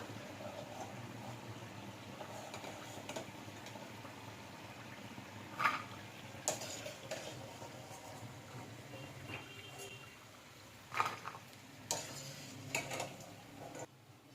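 Tapioca pakoda deep-frying in hot oil gives a quiet, steady sizzle with scattered soft pops and crackles, and no voices are heard.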